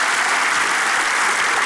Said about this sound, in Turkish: Ama herkes alkışlıyor.